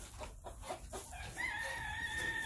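Chickens cluck softly in the background of a henhouse with a hen up in the rafters, while a rooster crows faintly, with a steady ambient hum throughout.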